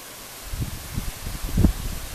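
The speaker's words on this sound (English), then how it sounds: "Well, the wind's died down a little bit," Wind moves through a big pecan tree, giving soft rustling and low gusty buffeting at the microphone that swell in a few irregular pulses.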